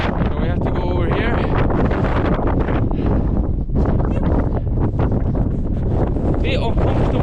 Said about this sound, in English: A bit uncomfortable with the wind blowing on my left side